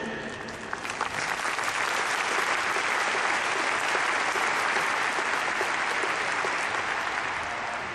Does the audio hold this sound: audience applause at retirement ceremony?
yes